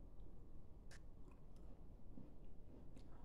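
Faint, crisp crunches come from biting and chewing a crunchy Christmas shortbread biscuit, a few quick brittle snaps scattered over a quiet background.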